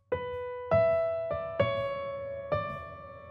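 Solo piano played by hand, a slow melodic phrase from a song, five soft notes struck one after another and left ringing, close and quiet with no voices.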